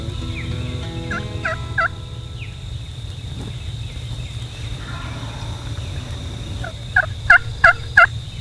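Osceola wild turkey gobbling on a foggy spring morning in Florida: a few distant gobbles early, then a louder burst of four rapid gobbles near the end over a low steady background hum.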